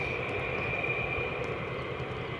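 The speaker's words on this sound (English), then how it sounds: "Featuring the United States Air Force F-15s and F-35s." United States Air Force F-15 and F-35 fighter jets roar at a distance at RAF Lakenheath, a steady broad engine rush with a high whine running through it, heard alone.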